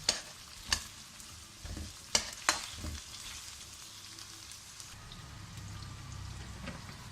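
Onions sizzle in a pan for chicken pepper dry, with a few sharp stirring scrapes near the start and a steady, soft frying hiss continuing throughout, no voices.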